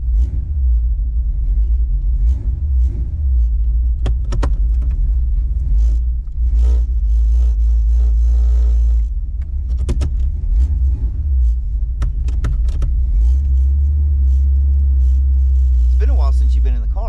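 A big old heavy all-steel American four-door car runs with a deep, steady engine rumble and occasional revs, while people talk over it.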